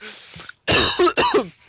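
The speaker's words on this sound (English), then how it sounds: "he's coughing his ass up" A man coughs hard in a few rough, throaty bursts after a brief quieter lead-in, loud and close with no speech over it.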